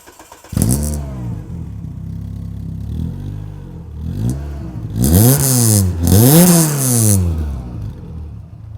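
A Renault Clio with an aftermarket exhaust revs repeatedly, several rising and falling blips growing stronger through the loud sporty exhaust, with raspy crackle on the sharpest revs.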